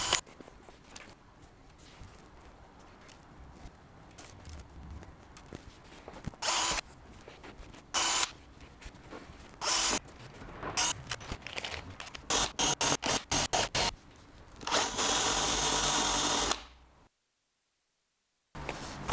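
Power drill countersinking screw holes in wooden diffuser panels, starting with scattered handling noises and then firing in short bursts that speed up into a longer sustained whir before cutting off.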